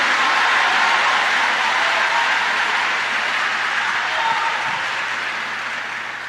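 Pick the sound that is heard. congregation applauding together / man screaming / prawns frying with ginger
congregation applauding together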